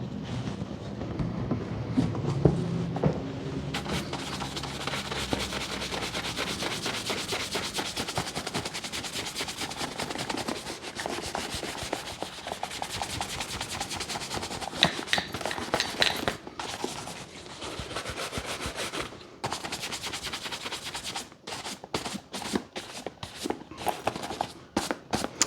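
Brush bristles sweep repeatedly over oiled leather on a pair of Grenson shoes, a steady close scratchy swishing in quick strokes that runs throughout with slight pauses.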